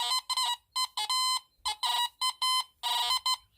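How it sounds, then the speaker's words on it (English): A Teknetics Delta 4000 metal detector sounds its overload signal near a metal object just under the coil: a rapid, stuttering series of loud, close electronic beeps in uneven clusters with short gaps. "That kind of rubato type sound, that is your overload signal."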